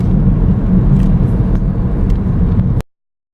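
Inside a BMW F20 116d with a 2-litre diesel engine, a steady low rumble of engine and road noise fills the cabin while driving, loud and constant, then cuts off abruptly near the end.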